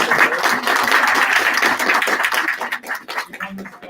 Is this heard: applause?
yes